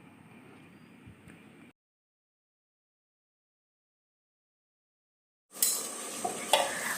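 Pieces of duck meat and pumpkin fry in oil in a pan for an Assamese curry, with a faint sizzle at first, then a gap of near silence, then louder, closer stirring and sizzling with utensil scrapes.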